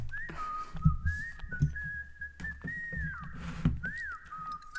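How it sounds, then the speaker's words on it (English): Funky whistled melody line from a song, gliding and held notes over a thumping bass groove, loud and upfront with no talking. "Funkiest whistle line."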